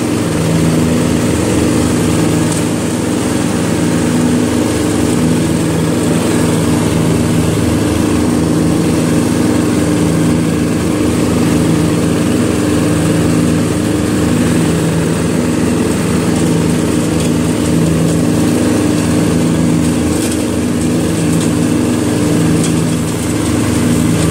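A Murray Select 12.5hp riding lawn tractor with a 40-inch deck drones steadily as it drives, its engine loud and close with an even, unbroken hum throughout and no talking.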